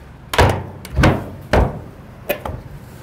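The doors of a leaf vacuum unit are swung shut and sealed, giving four distinct hollow thunks spaced roughly half a second apart, the last one lighter and followed by a small rattle, close up with no talking.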